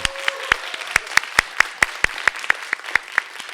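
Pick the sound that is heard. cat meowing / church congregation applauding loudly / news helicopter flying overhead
church congregation applauding loudly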